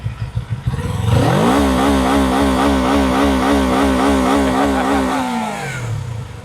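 A QJ Motor SRK 250 RA motorcycle engine revs up and holds steady at high RPM with the brake held, a loud sustained buzzing drone with a pulsing rhythm that winds down near the end.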